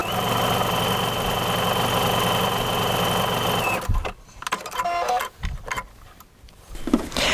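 Sewing machine stitching a fancy decorative pattern, a fast steady mechanical whir for about four seconds that then stops, followed by quieter scattered handling clicks and rustles.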